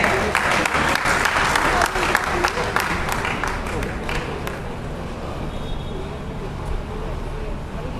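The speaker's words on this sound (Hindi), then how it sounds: "तालियों के साथ इनका स्वागत किया जाए।" Audience at a religious discourse gathering in a Jain community centre in Sundar Nagar, Ludhiana, applauding to welcome participants, dense clapping that is loud at first and then fades and thins out.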